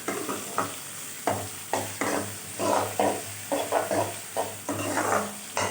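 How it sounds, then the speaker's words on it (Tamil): Roughly cut onions sautéing in a pan for fish curry, stirred with a steady run of scraping spatula strokes over a constant sizzle, close and fairly loud. "வெங்காயம் ரஃபாக கட் பண்ணி வச்சுருக்கேன் அதையும் போட்டு நல்லா வதக்கிக்கலாம்"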